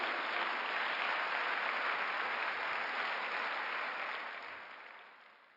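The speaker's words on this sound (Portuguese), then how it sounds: "Você pode dar um aplauso ao Senhor por isso?" A Sunday church congregation applauds together, a dense even wash of clapping that holds steady and then gradually fades away.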